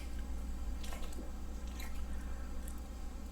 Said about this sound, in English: Much easier to chew.